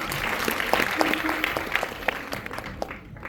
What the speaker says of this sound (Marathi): टाळ्या होऊन जावे